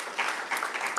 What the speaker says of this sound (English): let's give Maria a round of applause, please.